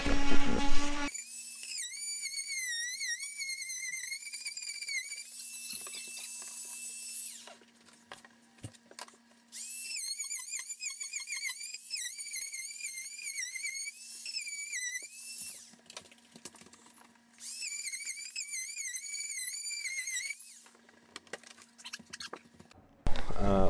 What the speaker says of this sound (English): I'm just going to cut this drywall out